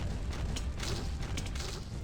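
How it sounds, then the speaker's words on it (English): Muffled explosions in the video game Hunt Royale, a low rumbling wash with a few soft bursts, faint and steady with no talk over it. "Bigger explosions again, that's really good."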